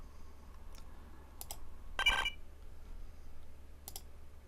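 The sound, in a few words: computer mouse click while installing Windows XP in VMware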